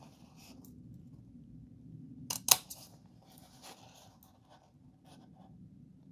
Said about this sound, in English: And then we're going to cut out to the corners